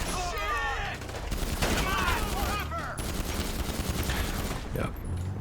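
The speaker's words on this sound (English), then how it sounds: "just a nice big spray of bullets" A big spray of automatic gunfire in Grand Theft Auto during a rooftop contact mission, dense rapid shots mixed with game effects and a voice talking over the shooting.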